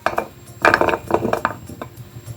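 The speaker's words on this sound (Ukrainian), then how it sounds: "Гарбуз я порізала маленькими кубиками, перекладу його в каструльку" Small pumpkin cubes dropped into a small saucepan, a loose run of close, light knocks and clatters against the pan, alone without talk.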